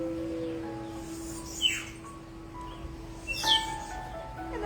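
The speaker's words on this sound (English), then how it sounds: "We've got a lot of birdsong in the environment today." Birdsong outdoors, with a steady high whistling note and two sharp descending chirps a couple of seconds apart against a quiet ambient background, moderately distant and without talk.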